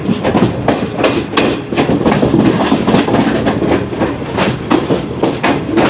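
The Shalimar Express rolls over a diamond crossing on the Rohri to Multan line, wheels hammering out a loud, rapid clickety-clack over the rail joints, heard close throughout.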